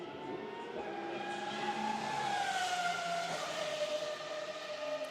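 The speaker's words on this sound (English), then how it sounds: "V12 Mercedes engine producing 850 brake horsepower" A Mercedes V12 GT1 race car engine of 850 horsepower revs hard toward 9,000 rpm at a Barcelona circuit, a faint, distant high-pitched wail sliding up and down in pitch with no speech over it.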